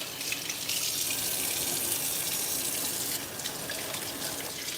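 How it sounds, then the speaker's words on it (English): Tap water runs steadily into a sink while a hand is rinsed beneath it, a continuous close splashing rush that dips slightly partway through, with no talking. "Also just wash my hand,"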